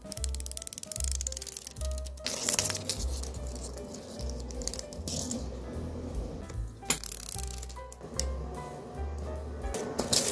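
Tape strips being cut and peeled off while decorating a sketchbook, heard as close, irregular tearing, crinkling and clicking handling sounds with short bursts and pauses, with no speech over them.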